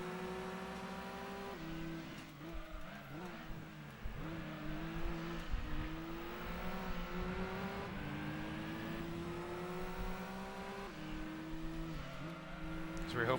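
Fast race cars in a racing video game roar continuously with high, whining engines that rise in pitch through repeated gear shifts, loud and close for the whole stretch.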